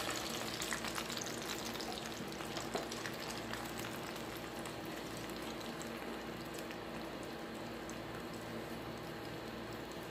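Spanish omelette batter frying in a lightly oiled pan over low heat, a soft, steady sizzle with gentle bubbling that holds evenly for the full ten seconds, quiet and without talk.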